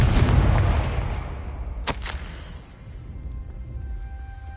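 A Confringo blasting spell from Hogwarts Legacy lands with a booming rumble that fades, then a sharp, cracking burst of explosions rings out midway before quieter game ambience.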